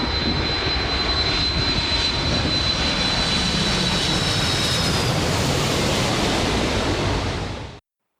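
A loud roar of an airplane passing low overhead on approach to the runway at St. Martin's, a broad steady rushing wash with a faint whine, then cutting off abruptly at the end; no talking.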